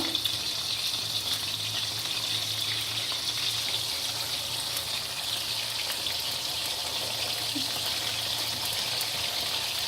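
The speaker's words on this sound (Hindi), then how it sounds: "अब मैं एक एक करके चिकन के सारे पीस इसके अंदर डाल के इसको फ्राई करेंगे।" Chicken pieces marinated in vinegar and salt frying in hot oil over a medium flame, giving a steady, even hiss that crackles continuously throughout with no voices.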